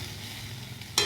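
Mixed vegetables frying in hot oil in a pan, a steady soft sizzle with a brief sharp crackle at the end as something is stirred or added.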